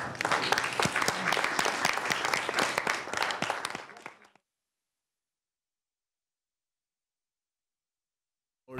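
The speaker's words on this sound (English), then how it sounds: "I think it should be a round of applause" An audience at a roundtable on the bombings of Barcelona and London breaks into brisk, dense applause for the translators, lasting a few seconds before cutting off abruptly into silence.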